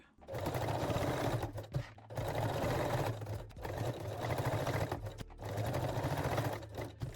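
A sewing machine running straight stitches to attach a small ring on a lingerie bralette, four close bursts of rapid whirring with brief pauses between them.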